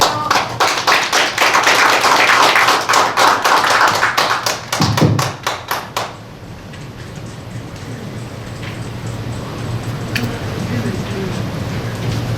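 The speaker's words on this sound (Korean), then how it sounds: "큰 박수로 맞아주십시오" A crowd at a Korean civic-movement rally gives loud, dense applause for a speaker, sustained for about six seconds before thinning to scattered claps and quiet room noise.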